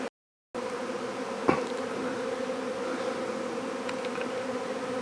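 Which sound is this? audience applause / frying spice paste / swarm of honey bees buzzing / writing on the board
swarm of honey bees buzzing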